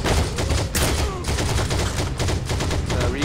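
Rapid automatic gunfire in the game Heroes and Generals, loud continuous crackling bursts close by throughout, with overlapping shots.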